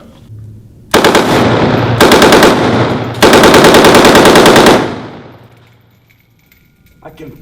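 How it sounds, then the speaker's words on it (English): A machine gun fires three rapid, very loud automatic bursts at close range while a magazine is emptied, then falls quiet with a faint metallic clink afterward. "I'm going to go ahead and take a few shots so you kind of get an idea of what it's going to look like and sound like"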